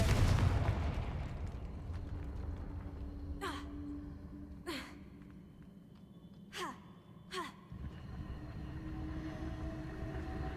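Spell blasts from the Confringo fire curse in Hogwarts Legacy: an opening burst, then four sharp cracking impacts spaced a second or two apart over a low ambient game rumble.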